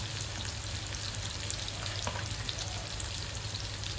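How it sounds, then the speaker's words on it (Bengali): Onions sizzle steadily in hot oil in a pan, a constant crackling fry with faint stirring and a low background hum. "পেঁয়াজগুলো ভাজা ভাজা হতে থাক"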